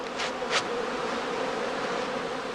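A honey bee swarm buzzes steadily around straw skeps on open heathland, a dense continuous hum heard at moderate distance with no voices.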